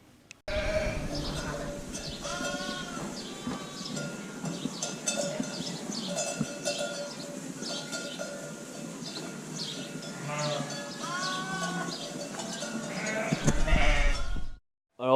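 Sheep and lambs bleat repeatedly and loudly throughout lambing time at a farm, with many overlapping calls from ewes and young lambs, close and continuous over a steady barn background.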